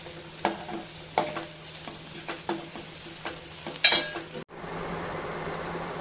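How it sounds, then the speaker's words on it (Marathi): Red masala spices sautéed into onions in a pan: a close, steady sizzle with repeated scraping stirs of a spoon, then the frying hiss continues evenly on its own. "सगळे मसाले आपण परतवून घेणार आहोत त्या कांद्यामध्ये"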